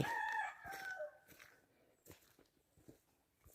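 A rooster crows once at the start, fairly close, followed by quieter scattered clucks and scuffling footsteps.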